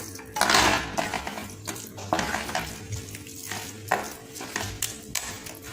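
A pav bhaji mix of tomatoes, potatoes and cauliflower is stirred in a pan, with a spoon scraping and clinking against the metal in irregular strokes over a soft sizzle, close and clear with no talking.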